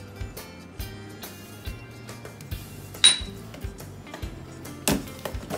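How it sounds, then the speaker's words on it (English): Avocados being scooped out and dropped into a blender in a kitchen, heard as a series of light clinks and taps of utensil against container and glass, with a sharper clink near the middle, close and quiet without speech. "we're gonna get these avocados and we're gonna scoop them out and get them into this blender"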